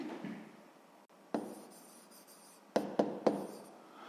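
A pen writes a fraction by hand on paper during a sixth-grade maths exercise, with soft scratchy strokes and a few sharp taps, close and quiet, in a mostly calm room.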